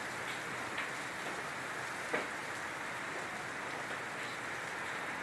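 Steady rain falls outside a house, a soft, even hiss with a few faint drops tapping nearby, heard alone without talk.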